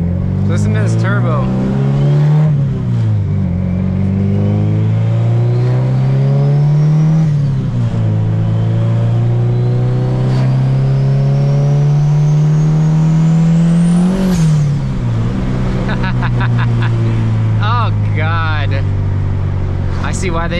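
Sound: turbocharged car engine revving

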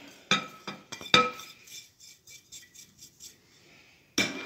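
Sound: mixing dry ingredients: cinnamon, anise, flaxseed

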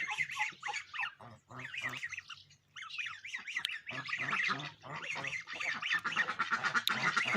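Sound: geese and goslings

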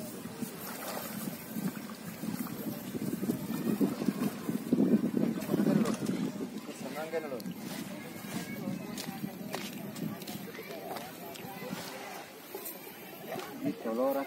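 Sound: boat engine running, Vietnamese-made motor

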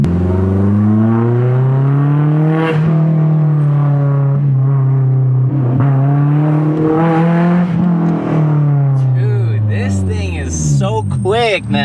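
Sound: Honda S2000 AP1 accelerating hard off the line

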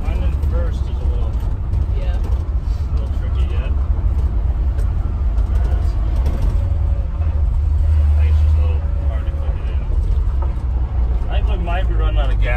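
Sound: old truck driving after being fixed

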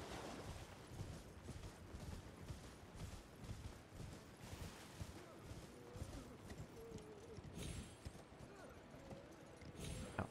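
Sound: horse hooves clip-clopping while riding in video game Elden Ring

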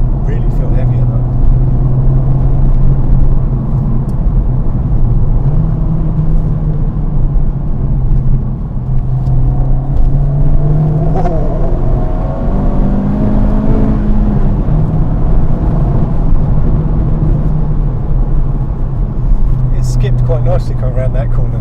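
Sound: Honda Civic Type-R (FK8) driving

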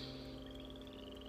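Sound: frog croaking

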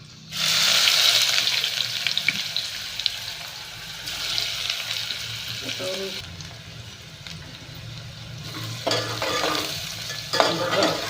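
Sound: onion frying in oil with whole spices

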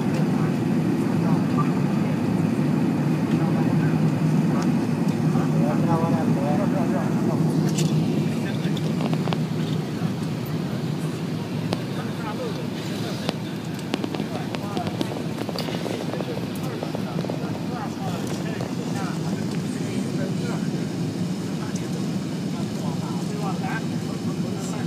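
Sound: Airbus A380 landing in Hong Kong

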